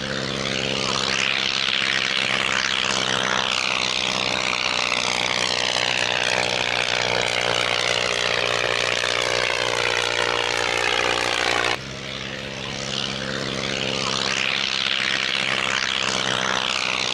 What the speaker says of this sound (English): A flying display with the Avro Triplane 4, and the Bristol Boxkite.